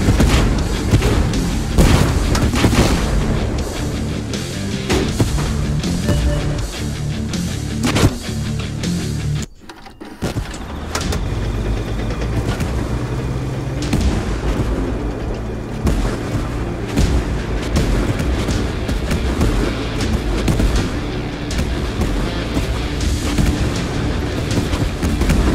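Gunfire and explosions from the Tank Force video game roar continuously and loudly, with dense booming blasts layered throughout and a brief drop near the middle before the barrage resumes.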